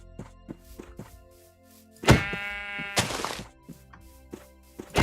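Sheep bleat in the Minecraft video game, two loud, drawn-out bleats close by, set against quiet game sounds with soft thunks and footsteps in between.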